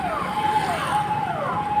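A Kolkata police car siren wails with a rising and falling tone, close and steady over road traffic noise on a Behala street, with no talking.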